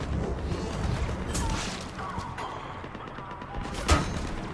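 Sniper rifle shots in Mass Effect 3 multiplayer: a few spaced, sharp cracks over busy battle ambience, the loudest near the end.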